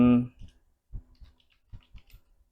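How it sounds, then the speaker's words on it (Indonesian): A few quick, light keystrokes clatter on a computer keyboard in a quiet room, following a brief spoken word at the start. "Oke, kita ketik di sini"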